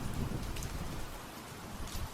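A storm at sea brings steady, dense rain with a low, rolling thunder-like rumble underneath, moderately quiet and continuous with no voices.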